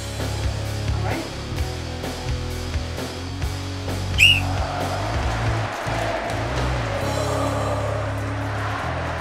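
A single whistle blast ends a timed eating contest, a short rising tone heard briefly in the middle over a steady low background hum with some faint knocks.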